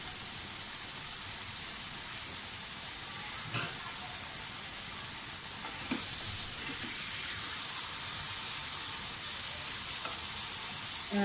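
Masala-coated chicken breast pan roasting in a pan, a faint, continuous sizzle with a few soft clicks and scrapes of handling, no voices.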